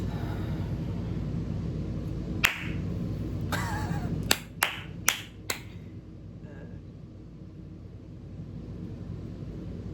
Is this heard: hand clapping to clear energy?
yes